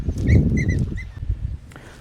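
A dog on a farm gives a few short, close whimpering yelps and whines over shuffling footsteps and low rustling in an open village field.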